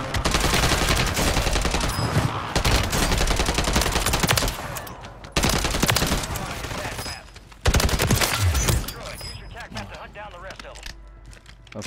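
Rapid machine gun fire in Call of Duty Modern Warfare II comes in several loud, sustained bursts separated by short pauses, with mechanical clatter and players talking over the shooting.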